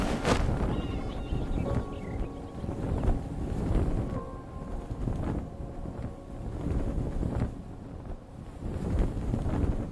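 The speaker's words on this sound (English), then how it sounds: "Trying to find those gusts of wind." Gusts of wind in the Enshrouded video game rush and roar steadily with a rough, blustery texture, rising and falling in strength throughout.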